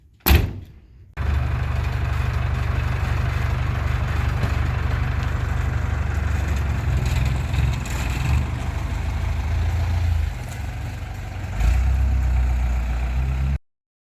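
A 1993 Steyr 1291 truck in good working order idles steadily after a brief thunk, its low diesel rumble loud and close, with no voices.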